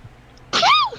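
A single sharp human sneeze, close and loud, bursting out on its own after a moment of near silence.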